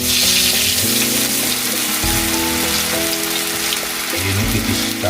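Thin tempe slices frying in a pan of hot oil, a dense continuous sizzle and crackle that stays loud and close throughout, with faint clinks as the pieces are moved.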